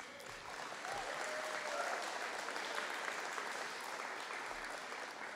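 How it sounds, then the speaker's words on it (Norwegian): An audience at a folk music festival, Landsfestivalen 2023, applauds a young fiddler taking the stage, a full, even wash of clapping held at a steady level from start to finish. "Gjerne en applaus."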